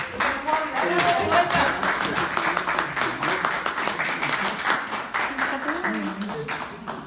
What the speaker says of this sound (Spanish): Un aplauso para la Carmen